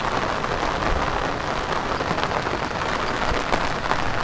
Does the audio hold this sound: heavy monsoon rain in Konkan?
yes